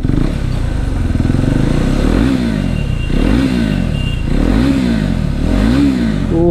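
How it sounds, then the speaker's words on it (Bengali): A loud KTM RC 390 motorcycle with an SC Project aftermarket exhaust close by, idling with a rough throaty burble and revving up repeatedly in rising and falling bursts. "তোমাদের আমাদের এই এক্সস্টের সাউন্ডটা কেমন লাগলো"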